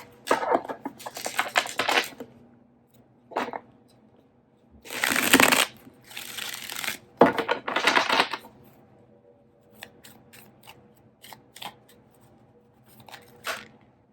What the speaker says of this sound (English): As I shuffle, I can see Taurus's energy.